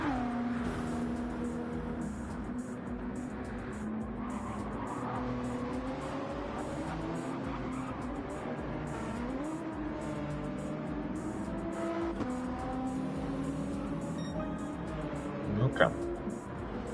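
GT3 race cars from a GR3 racing video game roar past with steady engine drone and shifting pitch, a continuous close engine tone that rises and falls as cars pass, with commentary talking over it.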